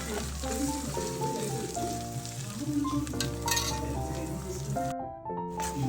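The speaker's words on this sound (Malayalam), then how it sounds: "എന്നിട്ടൊന്ന് അതിൻ്റെ ഒന്ന് വാടുന്ന വരെ നമുക്കൊന്ന് ഇളക്കി കൊടുക്കാം." Chopped ginger and garlic fry in a pan for a prawn pickle, a steady loud sizzle broken by scraping stirs throughout, with faint background music.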